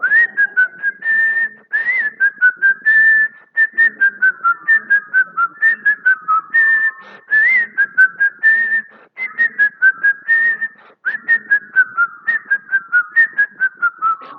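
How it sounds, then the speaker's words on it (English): A congregation at a spiritual living church service whistles a tune together as a whistling choir, loud and sustained, with rising and falling phrases separated by short breaths, and no talk. "We're going to start a whistling choir."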